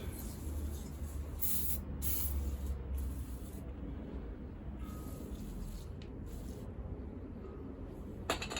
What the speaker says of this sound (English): It's on now, a bit of spray on it.